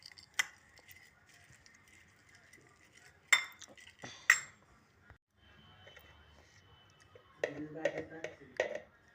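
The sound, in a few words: mixing chana dal with chopped raw mango in a bowl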